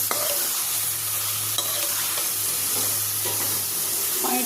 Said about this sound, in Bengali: এখানে আমি মাছটা দিয়ে দিলাম শিং মাছ কিছুটা ভাজা কিছুটা কাঁচা